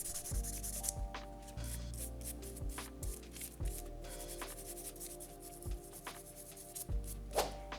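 Soft, close rubbing and scuffing strokes of a nail buffer worked back and forth on a fingernail during an at-home Gel X manicure, in short repeated passes with small taps between.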